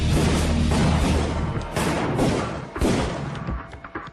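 Several heavy, booming shots ring out in quick succession over a dense rumbling background, each followed by a short decay.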